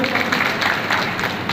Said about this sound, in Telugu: సరే చెప్పి చప్పట్లు కొట్టండి